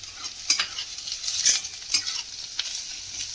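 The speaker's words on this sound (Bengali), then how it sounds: "এবার আমি রসুন আর আদা কুচিটা দিয়ে দিলাম" Chopped garlic and ginger fry in a pan after browned onions, giving a steady close sizzle broken by several sharp scraping stirs of a spatula, with no voices.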